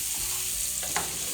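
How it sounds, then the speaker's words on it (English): Zucchini sautéing in a pan, giving a brief, dense, continuous sizzle close up with no voices. "I'm going to add our zucchini to the pan now and let this cook."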